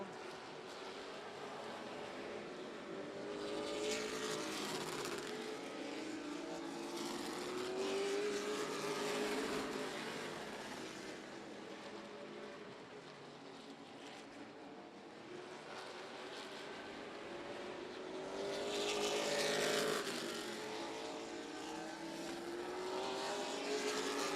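Race cars at Houston Motorsports Park roar past in a continuous loud drone, swelling as cars approach near 5 and 20 seconds and fading between, engine notes rising and falling throughout.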